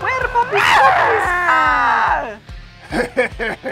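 A voice imitates small dogs, letting out a long whining, yelping howl, then a few short, sharp yips.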